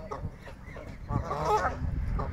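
Canada geese at Memorial Park in Vancouver give a few scattered honks from a moderate distance. The calls are soft and brief over low outdoor rumble and faint background murmur.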